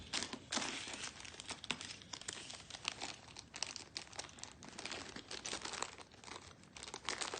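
Crinkling and rustling of a plastic accessory bag being emptied during an unboxing of a comma ai EON, a dense, continuous close-up crackle with small irregular bursts.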